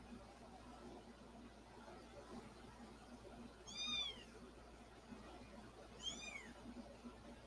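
A mother cat gives two distinct meows a couple of seconds apart, moderately close, over a quiet room background with no talking.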